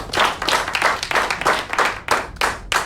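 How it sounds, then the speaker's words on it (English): An audience gives a round of applause for the speakers at a talk, loud close clapping in uneven waves that swell and dip repeatedly over a few seconds with no voices over it. "A big round of applause for all the speakers."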